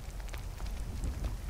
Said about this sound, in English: Khajiit does not like camping in the rain.